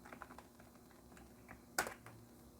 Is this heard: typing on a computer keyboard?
yes